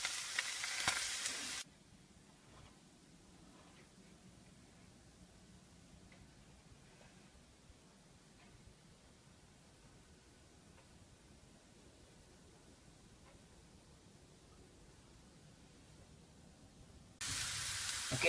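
Beef browning over a fireplace grill, a soft, steady sizzle with faint crackles running quietly throughout, framed by brief louder noise bursts at the very start and end.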